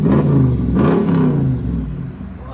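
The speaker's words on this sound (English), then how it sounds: "What a throaty truck, man. This sounds phenomenal." A straight-piped V8 Ram pickup truck revs up and then settles, a deep, throaty engine loud and close, a rumbling burst that fades over a couple of seconds.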